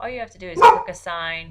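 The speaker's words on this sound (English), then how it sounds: "Sorry, that's my dog." A dog in a home barks once loudly, close by, breaking in over a voice speaking calmly before and after the bark.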